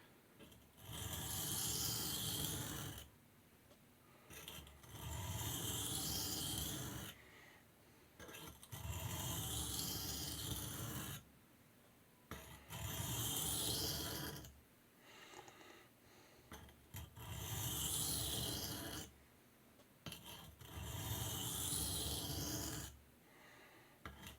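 A blade edge worked back and forth on a Norton Crystolon/India combination oilstone, with long, steady gritty strokes in regular bursts separated by brief pauses, close and alone.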